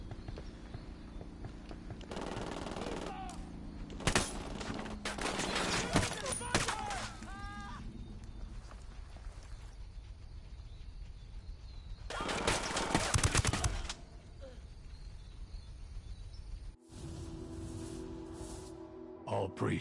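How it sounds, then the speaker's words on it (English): Gunfire in the video game Ghost Recon Wildlands comes in several loud bursts of rapid shots spread across the clip. Game sounds and a speaking voice mix in between the bursts. "I'm opening fire on these shitheads"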